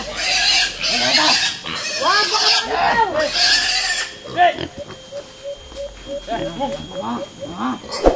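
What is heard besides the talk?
pig squealing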